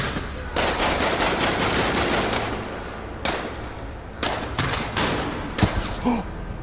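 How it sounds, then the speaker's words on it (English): Gunfire in a dramatized shootout, rapid bursts of automatic shots in long volleys with brief pauses, loud and close, ending in a few scattered single cracks. "as bullets riddled his father's chest"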